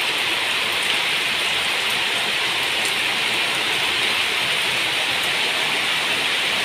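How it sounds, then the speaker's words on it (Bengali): Heavy rain pours down in a dense, unbroken roar of close, loud hiss with no pauses and no voices. "দেখো ভীষণ জোরে বৃষ্টি হচ্ছে।"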